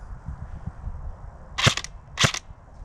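Two sharp shots from a Specna Arms M4 airsoft AEG (Core/Edge series) fired on semi-auto, spaced about half a second apart, loud and close over a low rumbling background.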